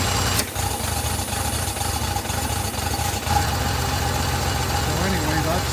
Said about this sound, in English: You hear the engine load change.